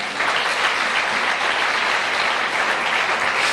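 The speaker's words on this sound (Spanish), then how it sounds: "Aplauda fuerte al Señor." Church congregation applauding loudly, a dense, continuous roar of many hands clapping at close range, steady and even throughout with no pauses.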